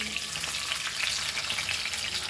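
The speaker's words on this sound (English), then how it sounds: "So now I am using this curry leaves to fry this marinated fish" Marinated pearl spot fish fries with curry leaves in a pan for a Goan fish fry, a constant close crackling sizzle with a faint stirring texture, steady and moderately quiet, no talk.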